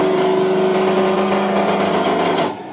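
An electric motor keeps running after one supply phase is cut, giving a loud, steady, strained hum with heavy vibration for about two and a half seconds before it drops away.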